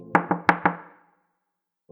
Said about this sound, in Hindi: मेरे कमरे की खिड़की पर एक हल्की सी दस्तक हुई।